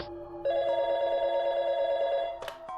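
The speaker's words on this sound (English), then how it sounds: "And then the phone call came." A telephone rings once in the Phoenix Wright courtroom game: a bright, sustained electronic bell tone that holds for about two seconds, then cuts off with a short click, with no voices.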